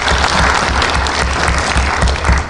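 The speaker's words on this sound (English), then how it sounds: "A round of applause," Loud, sustained applause from an audience at a national address in Kenya, dense clapping that fills the whole stretch without a break.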